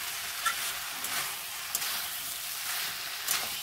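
Spice paste fries in oil in a pan for pui saag with fish head, pumpkin and potato. A faint, steady sizzle hisses throughout, with a few small pops.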